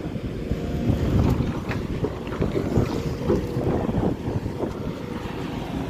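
Steady wind buffeting the microphone with a low rumble, continuous and fairly loud, over an engine-like drone of a boat on open water.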